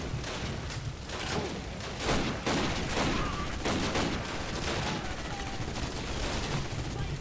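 Gunfire in Call of Duty: United Offensive, a dense, continuous fusillade of rapid machine-gun bursts with distant booms, steady and fairly loud throughout the stretch.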